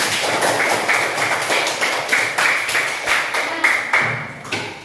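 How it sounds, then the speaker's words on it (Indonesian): A class of students clapping hands together in a steady, repeated rhythmic pattern, close and fairly loud. "Tepuk tangan terlebih dahulu."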